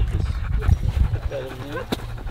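Sled dogs in Alaska pant in quick, breathy bursts, close by, while people talk over them and a short whimper or whine rises near the end.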